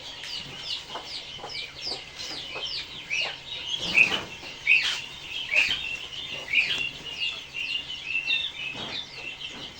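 Quails about 37 days old crowd a poultry farm shed in Lalmonirhat, Bangladesh, giving off a steady stream of sharp chirps and clucks from many birds at once, close by and overlapping in a busy chorus.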